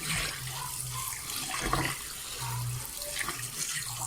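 Steady running tap water splashes into a container of rice, with a constant rushing hiss and occasional low sloshing as the rice is swirled and rinsed.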